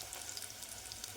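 Green chillies sizzle as they are added to a home-cooked chicken curry, giving a faint, steady frying hiss over a very short moment.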